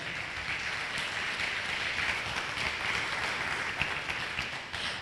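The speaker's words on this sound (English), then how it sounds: "Give Brother Nati another round of applause." Sustained audience applause at a lecture and Q&A session, a dense steady wash of many hands clapping that holds at an even level throughout and fades slightly at the end.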